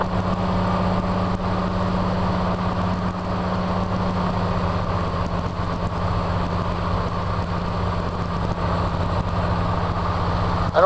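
A de Havilland DHC-2 Beaver seaplane's radial piston engine in flight, a steady, loud, droning hum with a constant low throb that holds unbroken throughout, no voices.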